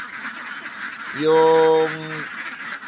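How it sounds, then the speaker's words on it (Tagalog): Domestic ducks let out one loud nasal quack partway through, set against a steady background hum, while someone talks quietly nearby. "So hinahayaan natin yung mga alagang itik natin na pupunta lang doon sa area"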